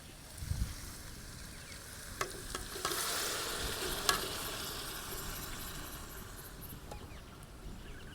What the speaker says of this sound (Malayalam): ഇനി നമുക്കേ ഇതിലോട്ട് നമ്മളെ ബീഫ് ഇട്ട് കൊടുക്കാം കേട്ടോ.